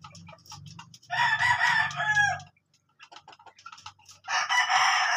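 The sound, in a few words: rooster crowing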